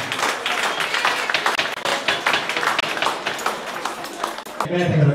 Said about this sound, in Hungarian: Hát egy nagy tapsot kérek szépen